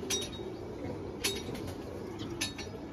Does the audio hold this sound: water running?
no